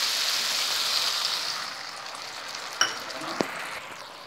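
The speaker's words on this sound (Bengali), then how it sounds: "এবার আমি এর মধ্যে পরিমাণ মতো জল দিয়ে দিচ্ছি।" Water poured into a pan of frying spice paste for tangra fish curry sets off a loud, steady sizzle that gradually softens, with a couple of sharp clinks near the end.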